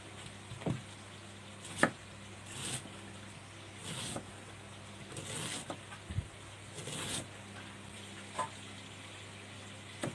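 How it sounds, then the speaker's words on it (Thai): Long beans being chopped short with a knife in a home kitchen, giving scattered sharp knocks at an uneven pace over low background hum. "หั่นถั่วก่อนค่ะหั่นสั้น"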